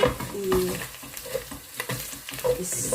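Ginger sautéing in a pan for laing sizzles loudly and close, a crackling fry with stirring scrapes throughout, no voices.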